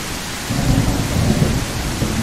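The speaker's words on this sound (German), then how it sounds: "Brauchen wir jetzt nicht hier im Regen rumwirtschaften." Steady rain and a low rolling rumble of thunder fill a rainy scene in the video game Mist Survival, the broadband hiss constant with a swell of thunder through the middle, loud and close, no talking.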